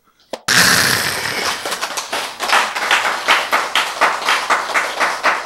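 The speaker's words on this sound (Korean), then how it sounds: "박수!" An audience claps together in a Korean sermon hall, starting abruptly and continuing as a dense, fairly loud wash that settles into a steady rhythmic clap near the end, with no talking over it.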